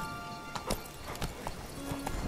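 Roach, the horse in The Witcher 3: Wild Hunt, trots with quick clip-clop hoofbeats, close and fairly loud, over a short stretch.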